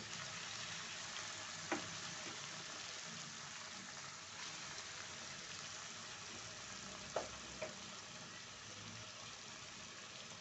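Cabbage fries in a pan over lowered flame, giving a faint, steady sizzle with a few soft clicks from stirring and no voices.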